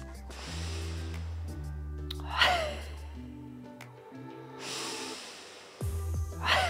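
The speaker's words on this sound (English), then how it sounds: "Two more there. Inhale." Forceful, deep yoga breaths through the nose: long, loud inhales and exhales alternating close up, with sharp rushes of air and no talk.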